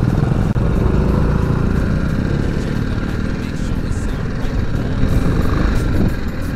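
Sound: BMW G310GS motorcycle engine riding off-road

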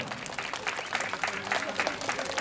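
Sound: applause for a dance group

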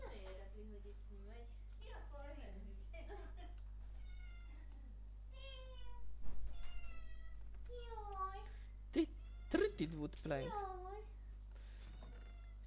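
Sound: pet cat meowing

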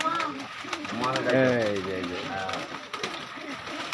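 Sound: pigeons cooing at a Homa Sirazi pigeon farm

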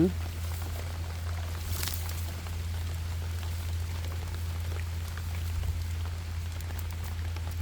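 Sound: rain falling while picking mushrooms

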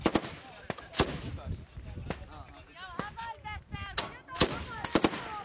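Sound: gunfire during battle for Al-Shaddadi

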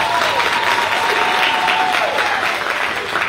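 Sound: audience applause

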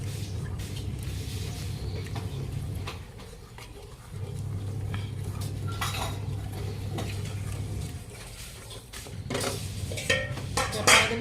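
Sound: stirring flour and ghee in a pan

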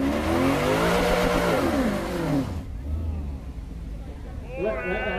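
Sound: Ferrari V12 engine revving up a hill

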